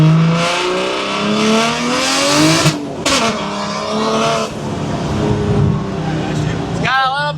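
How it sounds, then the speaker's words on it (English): A drift car with a little turbo boost revs hard up close, its engine note climbing and falling in loud sustained surges while someone talks over it. "this is the drift car"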